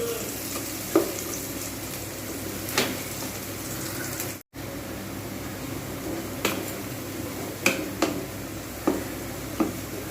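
Sliced onions frying in oil to make beresta for an egg korma, a continuous sizzle with periodic scraping taps of a spatula stirring the pan and a brief cut to silence.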